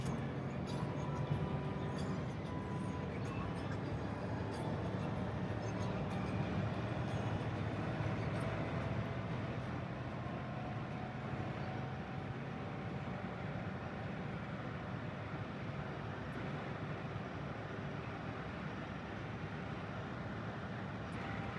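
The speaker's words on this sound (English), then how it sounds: "But just let's watch this acceleration." A heavy-duty Range Rover Sport Supercharged with its check engine light on accelerates uphill, a steady low engine and road roar heard from inside the cabin, fairly quiet and without talk.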